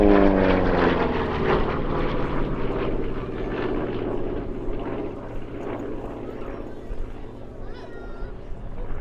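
A P-47D Thunderbolt propeller fighter flying at the RAF Cosford airshow 2025, its deep droning radial-engine roar loud at first and fading slightly as it passes, with steady engine rumble throughout.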